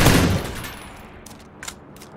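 Gunfire in the video game PUBG opens with a loud, close burst of rapid shots that trails off into a fading echo, followed by a few fainter scattered reports.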